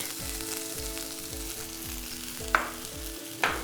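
Okra sautéing with salt in a hot pan, a steady close sizzle with a few sharp scraping stirs and taps of the spatula, no voices.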